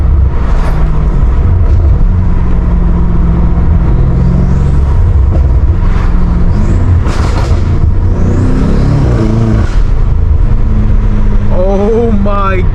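A catless F90 BMW M5 Competition engine rumbling at low RPM while driving on backroads, a loud constant drone from inside the car with shifting tones and a few swells, with voices talking over it.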